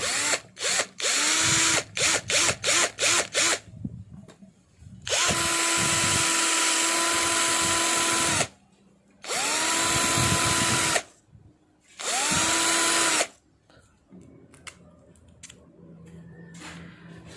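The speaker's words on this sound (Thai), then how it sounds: "เดี๋ยวมาทำการเจาะรูนะครับ ที่ฝากันก่อนเลย" Loud power drill whirring in repeated bursts while drilling a hole in a plastic bottle cap: several quick stutters, then longer sustained runs with pitch rising as the motor spins up, separated by short pauses.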